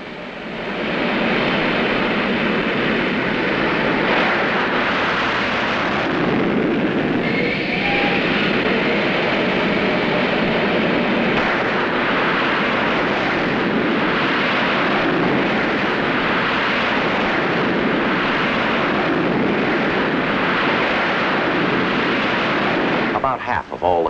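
Navy jets launching from an aircraft carrier during air operations off Vietnam in 1967, a loud continuous engine roar and rush that fills the whole stretch, with a narrator's voice running over it.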